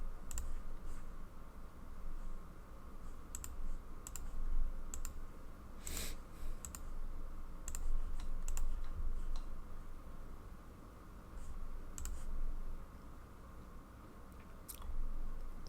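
Computer keyboard typing late at night during a RuneScape session, faint irregular key clicks in short bursts with pauses, over a low steady background hum.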